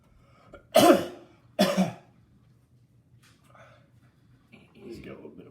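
A person coughs hard twice in quick succession, hacking up phlegm, then after a pause makes quieter throat-clearing and breathy rasping sounds, all close and dry with no talk.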